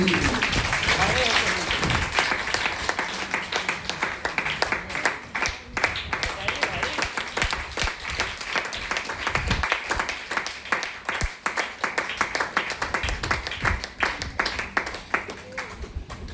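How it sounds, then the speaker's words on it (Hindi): Loud, sustained applause from a large crowd at a DXN meeting in Patna, dense clapping that carries on steadily throughout. "एक बार जोरदार ताली हम देंगे।"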